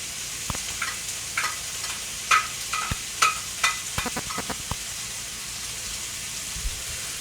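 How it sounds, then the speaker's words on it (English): Pressed raw garlic mixed with olive oil hits a hot pan, giving a faint, steady sizzle broken by a scattering of sharp utensil clicks and taps, close and without speech. "Why don't I throw in some very raw garlic and start that cooking up?"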